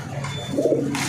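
A single low, soft pigeon coo rises briefly from close by, over a faint background hiss.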